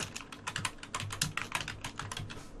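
Rapid, irregular keystrokes clatter on a computer keyboard as a short prompt is typed, the clicks close and crisp in a quiet room.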